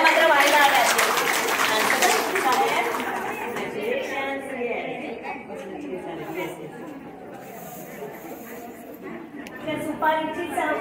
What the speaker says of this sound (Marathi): एकदा जोरात टाळ्या मात्र व्हायला आल्या.